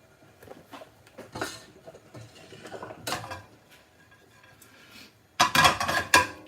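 A very hot pan of vindaloo is lifted off the burner, giving scattered metallic clanks and scrapes against a quiet background, ending in a louder burst of rattling clatter.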